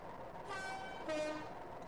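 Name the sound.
two-tone diesel locomotive horn, Train Simulator 2014 video game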